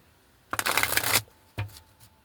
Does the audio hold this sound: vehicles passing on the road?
no